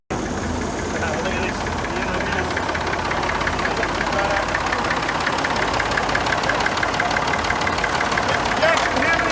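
A vintage tractor engine runs on a dyno at an outdoor vintage field day, a loud steady rhythmic chug close by with faint voices underneath.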